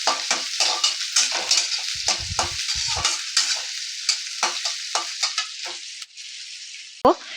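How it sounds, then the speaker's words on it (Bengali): Chopped onion frying in a pan for poha, a steady broadband sizzle with repeated scraping stirs and a sharp clank near the end, close and loud with no talking. "পেঁয়াজটা আমি ভেজে নিচ্ছি।"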